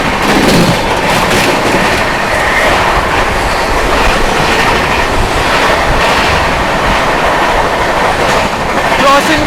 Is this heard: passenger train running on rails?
yes